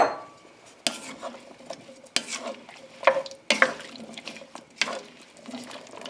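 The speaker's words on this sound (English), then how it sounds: "So now all of the squash and potatoes are going in, and we'll give that a good mix." Butternut squash and potato chunks stirred into a Rajasthani curry pot, with a handful of sharp scraping and clattering knocks from a spoon against the pot at an uneven pace, close and moderately loud.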